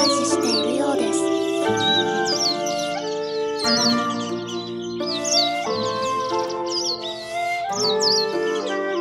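Japanese white-eyes feeding among cherry blossoms, slowed fourfold, give repeated thin, wavering chirps in irregular bursts, fairly clear above steady instrumental music.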